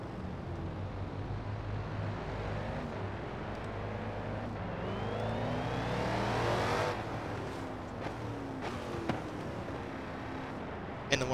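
Dodge Scat Pack muscle car driven in Forza Horizon 4, its engine droning steadily with rising and falling revs and a sweeping pitch climb near the middle, loud and continuous.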